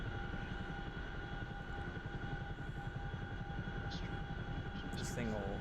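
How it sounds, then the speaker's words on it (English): A helicopter cruises at high speed in the DCS flight simulator game, a steady loud rotor and turbine drone with constant whine tones running throughout, a brief chirp near the end. "I'm going 170 knots in a helicopter."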